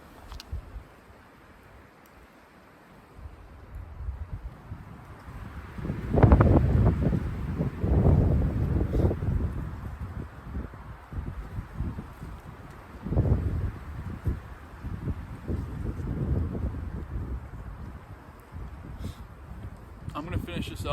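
Strong winter wind in minus-five cold buffets the microphone in rumbling gusts that swell and fade, loudest midway, with a voice briefly speaking over it.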